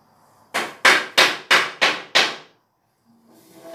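A hammer strikes a pine wood cutting-table piece six times in a steady rhythm, each blow a sharp, close, resonant knock, followed by near silence.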